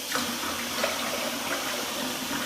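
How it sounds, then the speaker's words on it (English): Water runs steadily from a tap into a cup in a continuous rushing stream, close and fairly loud, with no voices. "I just take a cup, fill it up with water"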